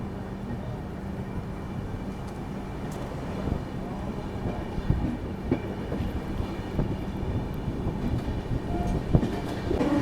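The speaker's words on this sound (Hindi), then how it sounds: "इटावा जंक्शन से भी हमारी ट्रेन जो है वो निकल चुकी है।" The Poorva SF Express pulls away from Etawah Junction, giving a steady low rumble of rolling stock with scattered clanks and wheel knocks over a continuous hum.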